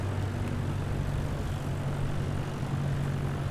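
Steady drone of a Grob G115E Tutor propeller engine in MSFS 2020 on a landing approach, with a constant low hum and engine tones running unchanged throughout, loud and close, with no voices.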